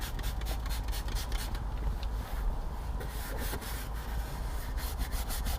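An interior detailing brush scrubs leather cleaner into a car seat, a steady close-up rubbing and scratching with quick rhythmic strokes, soft and continuous with no talk.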